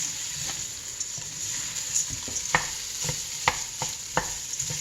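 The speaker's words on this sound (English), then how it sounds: "Toss in the lentils and stir those around." Lentils stirred into tomato sauce in a hot pan, giving a soft continuous sizzle with a few distinct scraping knocks of the spoon against the pan, close up and with no voices.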